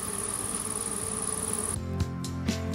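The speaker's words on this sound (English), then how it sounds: "take a minute to just listen to the bees that are busy working in the fields" A steady, close drone of bees in a lavender field in Provence, France hums for most of the clip, then fades, leaving a low buzzing and a couple of soft thumps.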